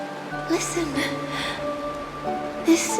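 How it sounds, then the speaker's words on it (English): Soft, steady rain falls throughout a scene in the video game Honkai: Star Rail, a continuous gentle hiss with a faint musical tone beneath and no talking. "This is the sound of rain."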